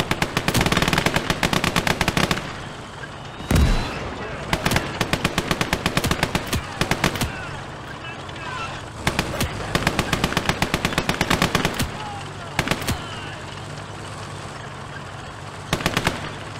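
Loud, close machine gun fire in the World War II game Call to Arms: Gates of Hell, set in the Winter War: long rapid rattling bursts repeat with short pauses and a heavier thud between them, and no one talks.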